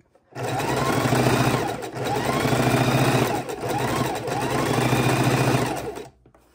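Sewing machine stitching fabric pieces for a scrappy log cabin quilt block, a fast steady whirring hum in three runs separated by short pauses, close and clear with no talking.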